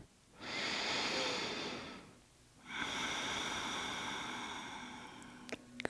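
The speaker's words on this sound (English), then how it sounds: "One last breath." A deep, slow breath during a yoga hip opener stretch, a long inhale and exhale with a short pause between, close and fairly quiet, with no talking.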